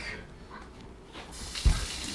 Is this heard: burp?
no